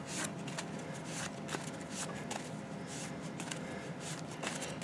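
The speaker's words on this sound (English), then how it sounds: "I think that's about good enough for shuffling here." A deck of Yu-Gi-Oh trading cards being shuffled by hand, with steady, close, soft riffling and flicking that carries on for several seconds with no talking.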